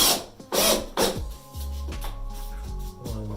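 Screws being driven by hand into a bathroom medicine cabinet during a budget remodel, heard as a few loud scraping, grinding turns followed by creaking, squeaky rubbing, close up with no talking.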